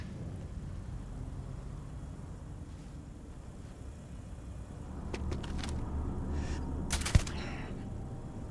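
A new favorite gun fires in Starfield, with a few sharp bursts of shots cutting through a steady low rumble near the end.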